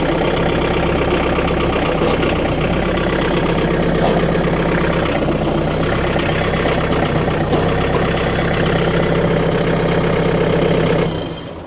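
Tractor engine idling steadily while the machine is used to lift a tire off the ground, a loud, even mechanical drone with a low rumble that holds for the whole stretch before easing off at the end.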